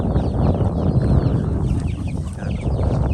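Several chickens cluck and chatter outdoors on a farm, a busy overlapping stream of calls over steady background noise.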